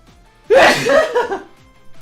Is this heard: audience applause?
no